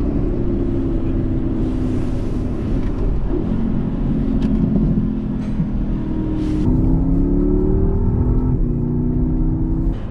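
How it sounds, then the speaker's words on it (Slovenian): A 2019 Porsche Panamera GTS exhaust roars steadily as the car accelerates out of town, with rising engine tones and gear changes heard from inside the cabin. "zdaj sam, da pridemo malo ven iz mesta, bo pokazala, kako se ta izpuh dere."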